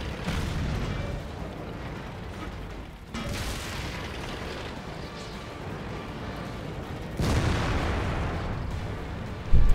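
Tank cannon fire in World of Tanks aimed at a house: a steady, dense rumble of engine and battle noise broken by two heavy booming blasts, with a sharp hit at the very end.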